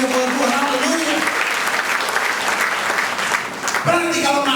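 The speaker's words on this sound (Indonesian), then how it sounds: "Yang setuju berikan tepuk tangan yang meriah buat Tuhan." A church congregation bursts into loud, sustained applause during a sermon, a dense crackle of clapping that fades and then swells again, with a preacher's voice speaking over it.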